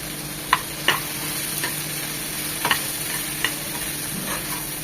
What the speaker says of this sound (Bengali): পেঁয়াজ আর টমেটোটা একটু কষিয়ে নেব, যেন হলুদের কাঁচা ভাবটা চলে যায়।